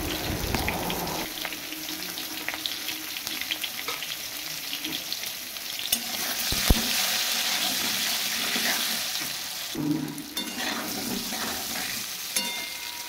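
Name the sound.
potato chunks with salt and turmeric frying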